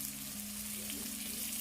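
Vegetables sautéing in a pan for a jerk salmon burger, a steady close sizzle with a low steady hum beneath, brief and unbroken.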